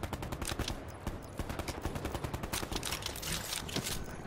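Rapid bursts of video game gunfire rattle steadily through the whole stretch, dense repeated shots in quick automatic-weapon rhythm, loud and continuous with no talking.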